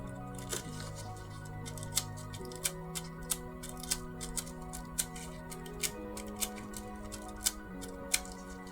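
Scissors snip a small chunk of green nail foil at a salon table, a series of sharp, close clicks spaced about half a second apart over a low electronic hum, with no talking.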